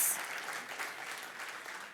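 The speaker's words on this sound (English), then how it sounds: "A warm round of applause" A warm round of applause from the crowd at the Matthew Goniwe 11th Annual Memorial, a soft, distant-sounding patter of clapping that stays fairly even and low throughout.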